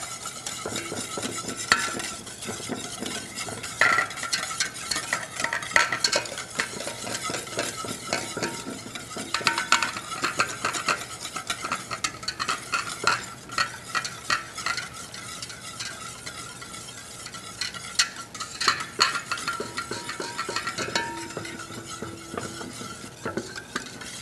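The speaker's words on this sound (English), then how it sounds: "I'm going to take my canola oil and I'm going to stir it." A canola oil vinaigrette is stirred in a bowl for a smoked potato salad. The sound is a steady, busy scraping and clinking that goes on without a break, close up, with no voices.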